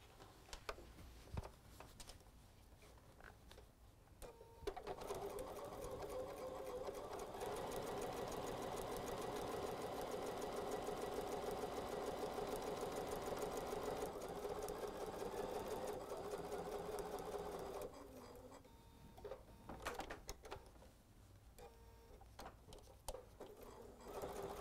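A sewing machine stitches binding onto a quilt, starting with a few soft stitches and then running in a steady, close, continuous whir for about thirteen seconds before slowing to lighter intermittent stitching.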